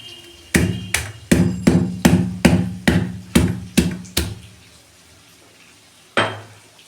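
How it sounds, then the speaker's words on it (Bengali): A hilsa fish head is crushed in a pan with spiced masala: about ten sharp, evenly spaced knocks land in quick succession, loud and close, then a pause and one final thud. "মাছের মাথাটা আমি থেঁতো করে দিয়ে দেবো"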